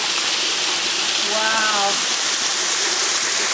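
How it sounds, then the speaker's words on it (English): Waterfall at Hinewai Reserve on New Zealand's Banks Peninsula, a steady broadband rush of falling water filling the whole clip, with a brief exclaiming voice over it. "One of the many waterfalls here at Hinewai."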